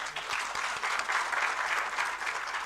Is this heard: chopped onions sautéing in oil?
no